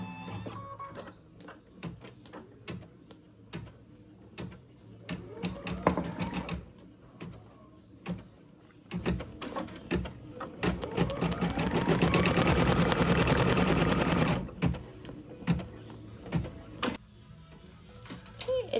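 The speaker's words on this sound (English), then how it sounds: "This first step is a placement stitch." An embroidery machine stitching the placement outline for a Minnie Mouse luggage tag, a steady rapid mechanical ticking and whirring that runs in stretches with brief pauses, swelling louder for a long continuous run midway, with no talk.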